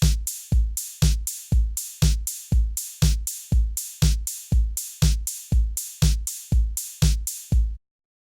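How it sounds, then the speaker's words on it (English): FL Studio EDM drum pattern: a punchy kick drum paired with a bright cymbal hit, repeating in a steady even pulse about twice a second, loud and dry, then cutting off abruptly. "this pattern here with a kick drum and a cymbal, and it sounds like this."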